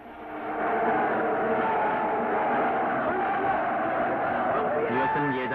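A crowd of players in the Korean chajeon nori game raises a loud, sustained battle cry together, a dense roar of many voices holding steady for several seconds.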